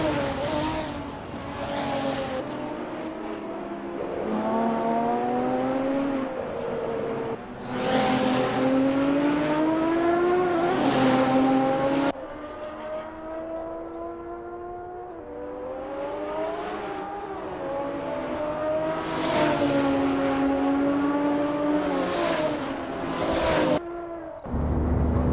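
Race car engines in a sim racing game warm up at the Nurburgring GP, revving repeatedly in rising and falling sweeps, with an abrupt shift in tone partway through and brief dips between pulls.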